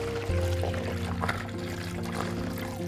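Milk pours into a bowl, a close, steady liquid gurgle and trickle lasting a few seconds, with no talking.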